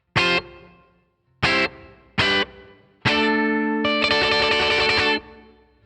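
An electric guitar plays through a Headrush reverb with the size control turned up. Three short struck chords are each followed by a decaying tail, then a longer sustained chord rings out before fading into a lingering wash.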